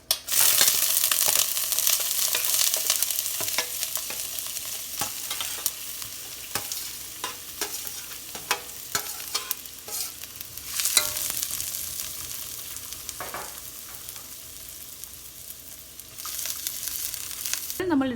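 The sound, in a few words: onion and broccoli frying in hot oil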